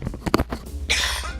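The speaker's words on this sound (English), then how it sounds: "I have to cough" A single person coughs up close during a Let's Play of Danganronpa Another Episode: Ultra Despair Girls, giving a few quick harsh bursts followed by a longer breathy rasp.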